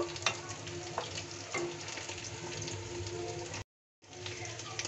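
Red lentil dal fried in a pan is stirred and water is added, a loud sizzle with scraping stirs and pouring, cut by a brief silent gap near the end.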